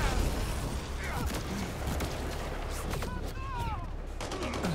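Dense, continuous gunfire and battle noise from a firefight against pirates in Mass Effect: Andromeda, loud and steady throughout, with voices mixed into the combat.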